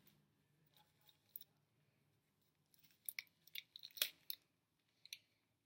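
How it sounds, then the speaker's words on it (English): A few sharp snips of scissors cutting the tip of a thin plastic piping bag, quiet and close, in short bursts after a soft rustle. "take your scissors and cut right on the tip"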